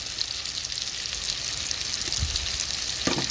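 Spicy and bell peppers sautéing in a hot pan, a steady close hissing sizzle with faint crackles and a couple of soft stirring knocks.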